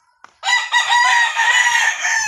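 A fighting rooster lets out one loud, close crow, a long strained call held for nearly two seconds after a brief click, with no one speaking.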